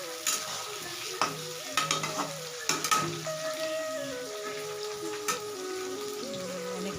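Tomato masala frying in a pan for chicken polao, stirred with a spoon: steady sizzle throughout, with scraping stir strokes and clinks standing out, close and moderately loud, no voices.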